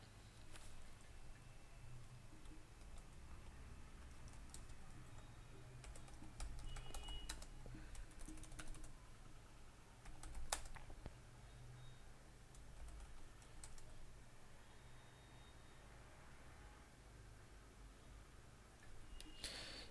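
Quiet, steady typing on a computer keyboard, with irregular key clicks over faint room noise and an occasional sharper tap.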